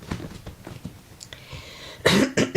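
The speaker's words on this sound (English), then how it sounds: "morning cough" Cough from a yoga instructor during a live morning class, a burst of two or three harsh, close coughs after quiet stretching cues, with no talk at that moment.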